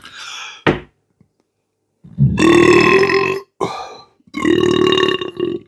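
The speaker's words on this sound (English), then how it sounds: "Good burp." Two loud, drawn-out burps close up after drinking IPA beer, each a deep rumbling belch lasting about a second, separated by short pauses and a brief sharp sound.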